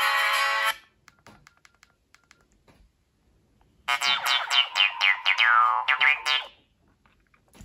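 Ringtone on a 2008 Nokia N96 prototype engineering-sample phone, played loud and clear through its loudspeaker: a bright synthetic tone, then a pause with a few faint clicks, then a longer, louder melodic run of stepped notes.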